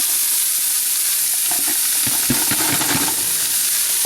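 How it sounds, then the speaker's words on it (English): Vegetables and garlic sauteing in a pot for a vegan pantry soup, a steady close sizzle with scattered stirring scrapes and clicks in the middle, no voices. "Step 3, saute veggies and garlic."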